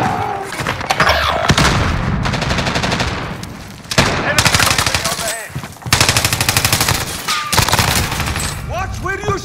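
Heavy automatic gunfire and booming blasts in Call of Duty: Modern Warfare, loud sustained bursts of rapid shots broken by brief pauses, with radio-style voices talking in between.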